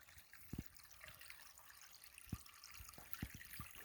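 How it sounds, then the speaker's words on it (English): A creek trickles near a trailhead on the Sheltowee Trace Trail in Morehead, Kentucky, a faint continuous flow of water with a few soft splashes and drips, no voices. "Here's the creek across coming in to the trailhead"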